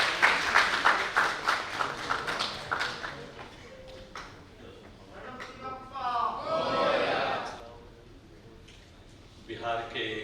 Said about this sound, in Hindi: बहुत बहुत जोरदार ताली के साथ